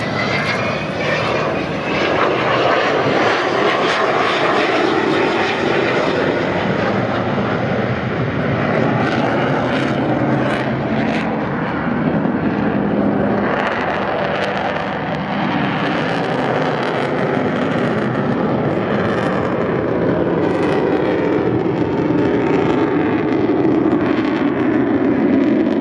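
An Avro Vulcan XH558 bomber flies a display at the 2015 Southport Airshow, its loud continuous engine roar filling the air for the whole stretch, swelling and shifting as it passes.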